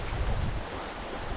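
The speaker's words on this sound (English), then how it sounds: "a nice steady wind, 1 foot waves, all good." Steady wind and choppy one-foot waves while crossing by boat from Pavillon Key toward Marco Island at seven to eight knots, a continuous rushing wash with heavy wind buffeting on the microphone.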